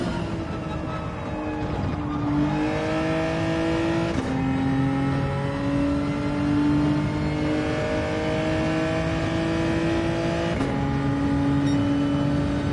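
Car engine in a racing video game: a sustained droning motor with steady, rising pitch sweeps as it shifts through gears, loud and continuous, with no voices.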